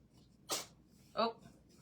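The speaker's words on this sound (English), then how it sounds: "She's down there sneezing." Two quick, breathy sneezes from a cat, faint and spaced under a second apart against a quiet room.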